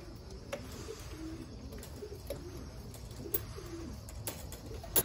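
A racing pigeon coos softly in repeated throaty phrases on returning to its loft after a 200-mile young bird race, with faint chirps and scattered clicks around it.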